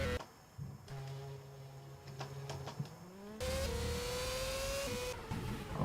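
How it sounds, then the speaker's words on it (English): Formula racing cars from the rFormula 2010 racing game pulling out onto the track in Malaysian Grand Prix qualifying, engines whining and shifting pitch upward, then a louder, fuller rev surge midway, steady synthetic engine tones without speech. "we are ready as both Mercedes come out onto the track"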